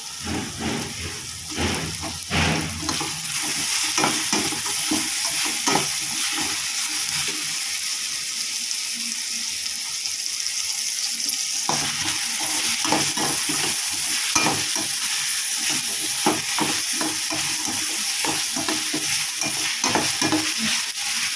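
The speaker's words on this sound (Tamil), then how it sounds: "நல்லா வெங்காயம் முருங்கைக்காய் பூண்டு வேகட்டும்." Onion, drumstick and garlic fry for a fish curry, giving a steady loud sizzle broken by repeated scraping stirs of a spatula against the pan.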